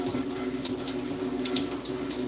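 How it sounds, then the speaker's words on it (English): Water runs steadily from a tap into a sink while a dish is rinsed during a home renovation, a close, even splashing stream with a faint tonal hum throughout and no talk. "So I'm rinsing this one off."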